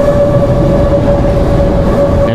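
A Chicago train rumbles loudly through a turn on a rail interchange, with a steady high metallic whine ringing over the wheel noise, close by.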